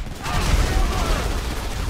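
Soldiers firing on a player in the video game GTA V during a battle with the military, a dense, loud burst of rapid gunfire that fills the whole moment.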